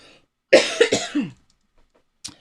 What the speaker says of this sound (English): I hope this isn't a persistent cough